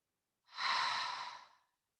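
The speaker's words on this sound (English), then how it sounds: "And then release, inhale, exhale." One long breath exhaled during a yoga practice, a soft airy whoosh that swells quickly and fades over about a second, close and alone in silence.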